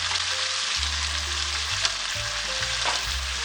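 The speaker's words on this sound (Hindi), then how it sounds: "2 चम्मच मैं दही डालूँगी इसके अंदर" Yogurt sizzling as it is added to beef karahi frying in oil, a loud continuous close crackle and hiss with stirring scrapes and low clunks underneath.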